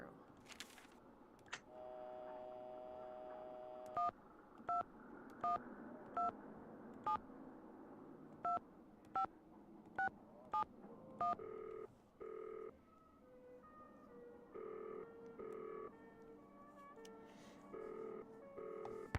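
A phone in the Nancy Drew: Danger by Design game dials a number as a run of evenly spaced short touch-tone beeps. Ringback tones follow, then a line pickup with a brief electronic tone pattern.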